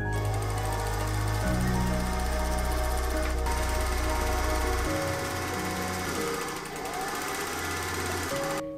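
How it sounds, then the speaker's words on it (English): A sewing machine stitches the skirt seams of an Edwardian summer dress, its motor running in a loud, steady whir with a low drone that shifts pitch partway through, and no voices. "The rest of the skirt seams in the top portion of the skirt are just sewn by machine normally."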